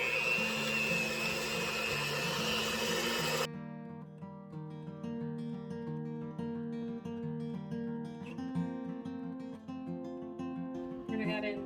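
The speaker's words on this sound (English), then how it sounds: "So I'm just going to get my mixer going." An electric mixer beats eggs and sugar for banana bread batter, a loud steady whir lasting a few seconds before cutting off as music continues.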